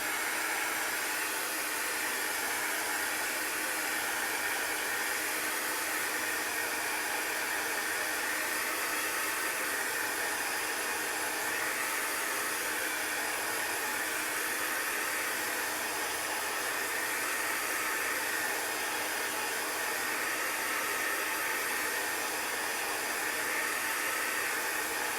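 A hair dryer blows a steady, loud, unbroken hiss for nearly half a minute while drying chalk paste on a stencil, with no pauses or talk.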